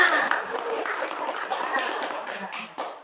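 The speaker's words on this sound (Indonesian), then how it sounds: "Tepuk tangan." Scattered clapping from a small group mixed with voices and chatter, uneven and moderately loud, fading slightly toward the end.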